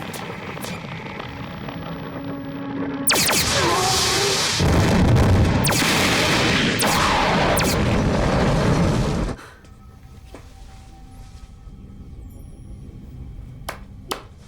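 A loud sci-fi barrage of spaceship cannons erupts with booming blasts and whooshing zaps over a humming backdrop, lasting several seconds before cutting back to a low drone.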